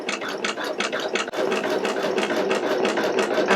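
A Pfaff Creative Icon 2 embroidery machine stitches fringe flowers with a loud, steady rapid clatter of needle strokes, close up, briefly pausing before resuming its even mechanical rhythm.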